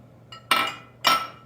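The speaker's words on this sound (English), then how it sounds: "we're just gonna keep mixing all of that together" A utensil strikes a bowl twice while eggs and banana bread batter are mixed, giving two short, bright clinks about half a second apart over a quiet kitchen background.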